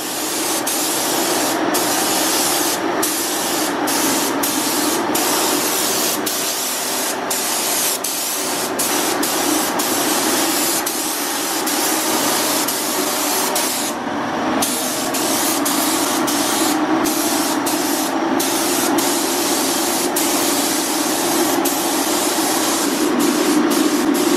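Continuous hissing spray from a paint can that runs for the whole stretch, with brief dips and rattling bursts over a low mechanical hum.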